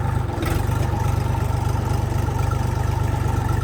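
A Kentavr 244 mini tractor engine runs steadily with a low, even chugging throb while shifting up through gears, close by and fairly loud, with no obvious change in pitch.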